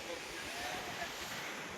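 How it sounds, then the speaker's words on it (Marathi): Sea waves wash in at Chennai beach, a broad steady roar of surf mixed with wind buffeting the microphone. "लाटा पाहून जाता जाता वेळेस खतरनाक लाट आहे"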